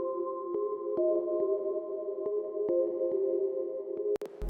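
Electric keys synth patch on the key expand preset, heard dry before effects: sustained layered tones with soft repeated note attacks, steady and clear with no talk, ending in a brief click.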